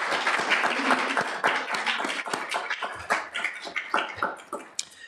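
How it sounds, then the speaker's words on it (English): Audience at a school board meeting applauding in honor of departing staff, a fairly close, dense patter of clapping that thins toward the end, with a few stray thumps and no talking. "we'll provide them with a round of applause in honor of their work"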